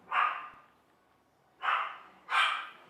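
A small dog barks three times indoors, moderately near: one bark, a pause, then two more in quick succession, with no talk over them.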